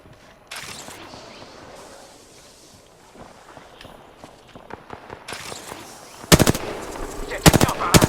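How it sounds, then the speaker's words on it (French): Video game gunfire bursts out in rapid automatic volleys, loud and close, joined by scattered single shots and footstep-like clatter, with the heaviest firing packed into the final seconds. "J'ouvre le feu."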